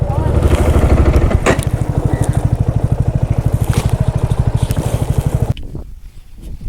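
An RTX300 motorcycle engine throbs in a fast, steady rhythm as it rides through the Vathalmalai hills near Dharmapuri, loud and close, then cuts to quieter ambient noise near the end.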